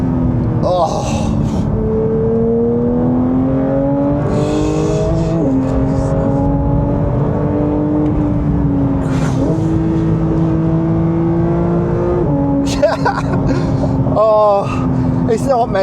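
A Porsche 911 GT3 engine revs hard under acceleration, its rising pitch stepping through several gear changes in a steady, loud run from inside the car, with a person's voice breaking in briefly over the engine.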